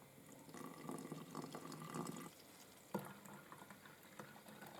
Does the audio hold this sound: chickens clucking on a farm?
no